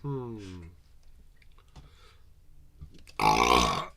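A loud, drawn-out burp bursts in near the end after quieter voiced sounds and a brief low grunt, close and harsh.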